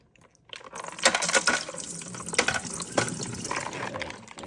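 Water and ice poured off boiled chicken feet in a kitchen, a splashing, gurgling pour that starts after a short silence and runs on with uneven bursts, fairly close.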